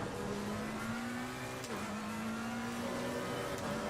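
McLaren GT race car on the Misano circuit in Assetto Corsa Competizione, its engine droning steadily at high revs with a brief shift blip midway, loud and continuous with no talk.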